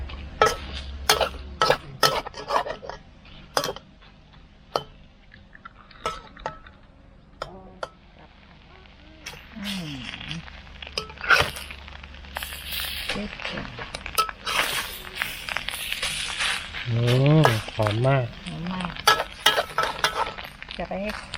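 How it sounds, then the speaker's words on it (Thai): Eggs stir-fried over low heat with chai po (preserved radish) in an outdoor rice-field setting, light sizzle with repeated spatula scrapes and clinks against the pan while someone talks intermittently. "แล้วก็ผัดไปเรื่อยๆค่ะไฟอ่อนนะคะ"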